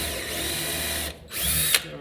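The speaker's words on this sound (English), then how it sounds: "then I'm going to drill down" A power drill bores down into a wooden rack piece, whining steadily, then pauses briefly and spins up again, close and loud.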